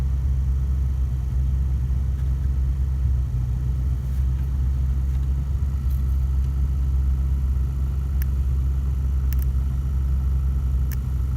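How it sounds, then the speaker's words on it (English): A car engine idling steadily after a breakdown, a continuous low, even rumble that stays constant throughout with no revving and a few faint clicks above it. "I've got the car running right now."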